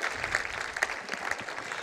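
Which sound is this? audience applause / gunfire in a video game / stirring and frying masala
audience applause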